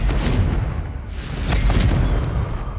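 A rumbling fiery blast from the Confringo spell in Hogwarts Legacy rolls out as a sustained low explosion with a couple of sharper bursts layered on top, loud and continuous without speech.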